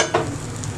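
A brief close sizzle of a methi dosa cooking in oil on a pan, with one quick scrape near the start, alone and without talk.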